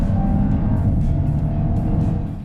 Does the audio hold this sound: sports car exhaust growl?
yes